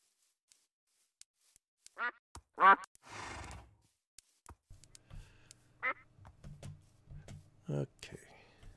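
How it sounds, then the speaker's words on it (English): Ducks in the Minecraft TerraFirmaCraft modpack give several separate quacks, spaced a second or more apart, with a quiet rustle and soft game sounds between them and a person talking softly at times. "Oh, we found some ducks."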